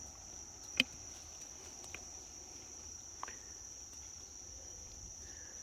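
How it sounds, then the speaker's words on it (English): Steady, continuous high insect trill of crickets chirping throughout, with a few faint clicks and taps in a quiet evening background. "So the crickets are already out."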